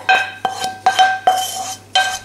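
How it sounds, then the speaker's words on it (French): A potato masher works cooked potato flesh in a dish for stuffed baked potatoes, giving five or six distinct knocks and scrapes of metal against the dish at an even pace, close and alone. "je vais réduire la chair de pomme de terre en purée à l'aide de l'écrase purée"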